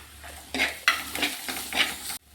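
Turmeric and fenugreek powders are stirred in a hot pan with oil, the spoon scraping in several quick sizzling strokes over a soft background fry, close and moderately loud, before an abrupt cutoff.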